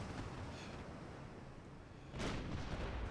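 Five-inch naval guns fire shells in the Shipyard Champions naval combat game: a faint, distant rumbling bed of gunfire with one heavier blast partway through.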